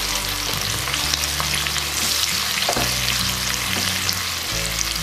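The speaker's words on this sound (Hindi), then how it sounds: "और इसको हिला लेंगे हम।" A tadka of oil with green and red chilies and asafoetida sizzles steadily in a pan as it is stirred, with constant close frying crackle and occasional scraping, and nobody talking.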